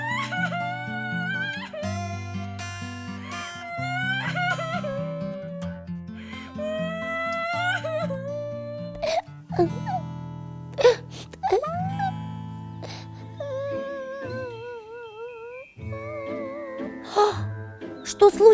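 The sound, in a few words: child crying in cartoon story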